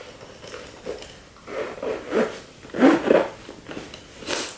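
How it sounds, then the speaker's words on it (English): Zipper on a square luxury case bag, drawn in several short, raspy strokes with pauses between them, close and fairly loud, no voices. "Now let's try to zip it."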